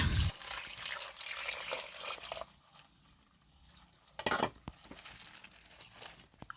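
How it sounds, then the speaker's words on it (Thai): Plain water poured over field crabs packed in bamboo for cooking outdoors in the forest: a splashing, trickling pour at the start, then quiet, with a few brief drips and splashes later. "เสร็จแล้วก็จะเติมน้ำเปล่าลงไปนะ"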